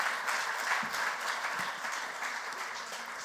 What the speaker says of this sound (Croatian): Jedan velik aplauz za gradonačelnika Rijeke, Marka Filipovića.